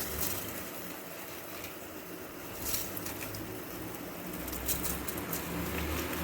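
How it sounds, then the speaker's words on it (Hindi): Uncooked rice tipped into a pot of boiling jaggery water, giving a soft, steady pattering and bubbling hiss that holds at a low, even level for several seconds with no voices. "अब इसके अंदर जो है वो चावल शामिल कर रहे हैं।"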